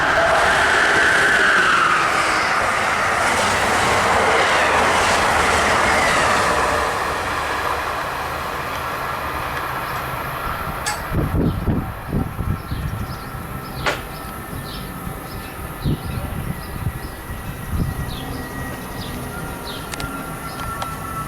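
Train rushing past at Princeton Junction station, a loud roaring pass that fades over several seconds, followed by quieter rattles, clunks and faint birdsong.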